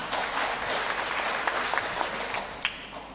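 Applause from a room of officials at a regional health meeting on maternal and infant mortality and stunting, dense steady clapping with a few sharper claps standing out, sustained for a few seconds.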